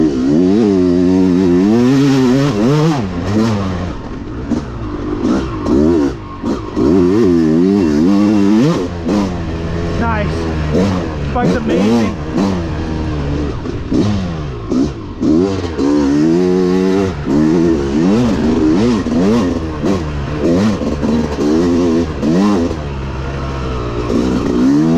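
A two-stroke dirt bike engine, loud and close, revs repeatedly with rising and falling pitch sweeps, sharp blips and a raspy buzzing note over a continuous run.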